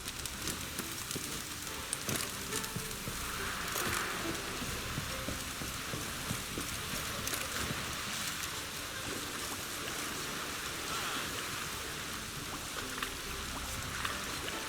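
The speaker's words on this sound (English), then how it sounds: "It's raining." Rain in The Witcher 3 on the Skellige Islands, a steady broadband hiss of falling rain that continues without a break for the whole stretch, with no voices over it.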